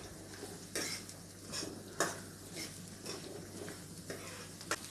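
About twenty finely chopped small onions being sautéed in a pan for a country chicken gravy: quiet, close spatula scrapes and metallic clinks against the pan over a faint sizzle.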